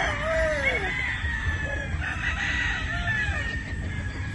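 Gamefowl roosters at a game farm in Batangas crow loudly nearby, with overlapping calls from several birds and scattered clucking across a noisy farmyard background.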